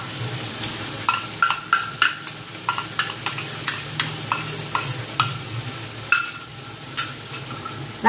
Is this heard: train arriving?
no